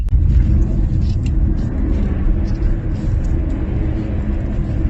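A new Opel Insignia with four-wheel drive drifts, producing a loud, steady, low engine roar and tyre rumble that holds continuously without a break.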